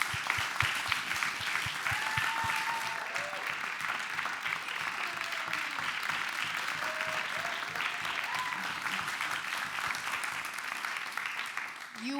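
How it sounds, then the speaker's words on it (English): A crowd applauds speakers at a spring narratives showcase, with steady massed clapping, distinct near claps early on and scattered cheers throughout. "please give a big round of applause for all of our amazing speakers tonight."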